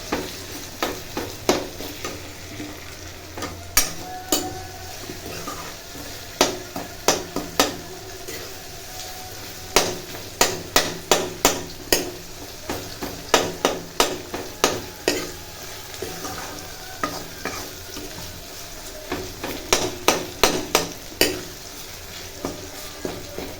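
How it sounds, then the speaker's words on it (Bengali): Onions sautéing in a pan as the base for a spicy fish curry: a continuous sizzle with frequent rhythmic spatula scrapes and clacks coming in bursts, close and fairly loud, with no speech. "পেঁয়াজটা আগে একটু কষিয়ে নিচ্ছি।"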